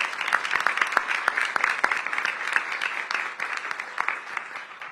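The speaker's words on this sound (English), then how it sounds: "Please give them a big round of applause." Audience applause for library staff at a mayoral budget presentation in a public library, a steady spread of many hands clapping at moderate volume with a few distinct louder claps.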